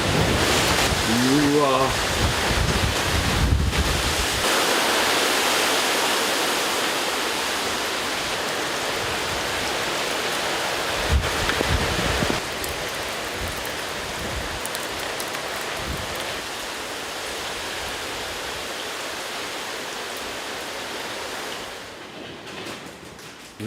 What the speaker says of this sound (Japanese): すごかった、台風が。